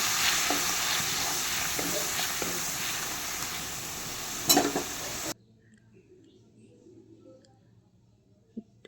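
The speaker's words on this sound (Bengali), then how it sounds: "দিয়ে ভালো করে নেড়ে নিচ্ছি" Spices, salt, turmeric and Kashmiri chilli being stirred in a hot oiled pan for pabda fish curry, a steady close sizzle with scraping for about five seconds, then cutting to near silence with a faint click at the end.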